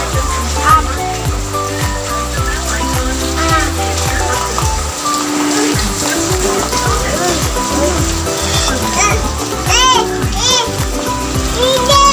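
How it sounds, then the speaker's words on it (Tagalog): Heavy rain falling outside a house, a constant loud hiss and patter heard from indoors, with children's voices and talking over it throughout. "Super maulan dito."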